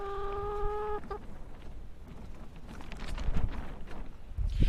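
Adler laying hens cluck in a closed coop, loud, close and continuous, with a brief tonal call near the start and overlapping rough clucks throughout.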